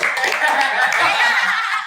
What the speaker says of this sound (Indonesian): Dan untuk para MC kita tepuk tangan buat IO Palembang dong.